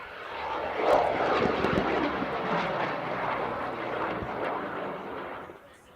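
A rocket ignites and lifts off at the EuRoC launch competition, a loud, sustained roaring rush that swells quickly, then slowly fades as it climbs away.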